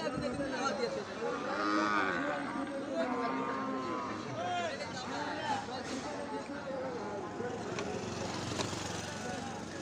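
Cattle low now and then amid a busy cattle market crowd, with many people talking and haggling nearby throughout.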